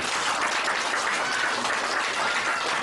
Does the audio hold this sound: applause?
yes